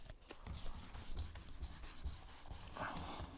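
800 grit sandpaper is worked over a painted surface in a garage, giving close, continuous, gritty rubbing strokes at a moderate level.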